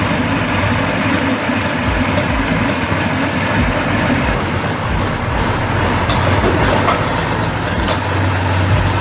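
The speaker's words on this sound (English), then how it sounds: "The 38-liter V12 diesel engine roars to life, coughing and sputtering, then suddenly erupts in a fierce growl." A massive old 38-liter V12 diesel engine runs with a loud, steady, dense growl and heavy low rumble, continuous for the whole stretch with no talk over it.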